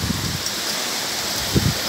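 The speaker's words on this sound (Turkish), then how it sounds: "Bak acayip hızlı yağıyor bak." Heavy rain pouring down in Eskişehir, a dense, steady hiss of rainfall heard up close, filling the whole moment with no voices.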